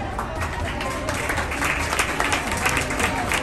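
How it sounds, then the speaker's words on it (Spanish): Schoolchildren at a Day of All Saints event at a school in Tamazula, Jalisco, applaud the contest participants. Loud, busy clapping from a young crowd, with voices and shouts mixed through it. "Un fuerte aplauso, chicos, para todos los participantes"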